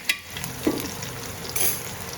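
Garlic frying in hot oil gives a steady close sizzle with a few sharper crackles and stirring scrapes, no voices.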